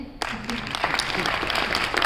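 An audience at a Hindi poetry recital breaks into applause, the clapping starting abruptly after a quiet instant and continuing as a dense, steady patter of many hands.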